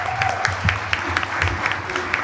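An audience at an all-candidates election debate on accessibility gives a round of applause, a steady patter of clapping hands at moderate volume lasting throughout.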